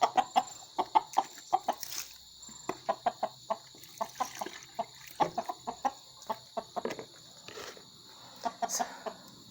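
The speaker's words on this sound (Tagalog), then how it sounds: "patukain natin itong manok din" Chickens cluck in a steady stream of short, overlapping calls, close by, with a continuous high hiss running in the background.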